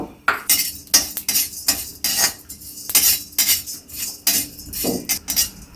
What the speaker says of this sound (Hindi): अब इसी कढ़ाई में हम 1 चम्मच साबुत धनिया और 1 चम्मच से थोड़ा कम जीरा भून लेते हैं